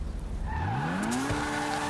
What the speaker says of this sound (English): Now driving the vehicle